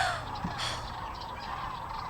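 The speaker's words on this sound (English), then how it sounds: "Near the sandhill cranes, a whooping crane." A whooping crane calls near sandhill cranes by a river swamp, giving a few raspy, honking notes over a steady background hum of wind and water.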